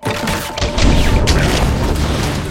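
A gang bombarding a house sets off an explosion, heard as a loud, sustained boom with rumbling crash debris that fills the whole stretch and has no talking over it.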